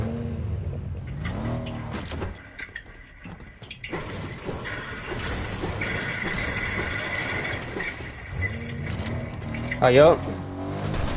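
A car in an online duos shooter game runs with a steady engine hum and driving noise, with a crash or scrape near the end, under players talking over it.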